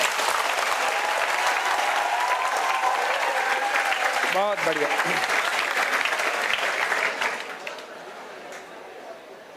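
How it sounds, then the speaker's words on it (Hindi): An audience at a political gathering breaks into loud, sustained applause that fades toward the end, while a voice speaks briefly over the clapping. "तालियां जोरदार बजाओ।"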